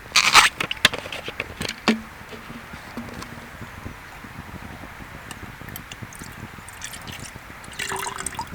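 Water pours and splashes out of a container at a riverbank camp, with dripping and trickling, scattered clatter early on and a quieter steady flow afterward.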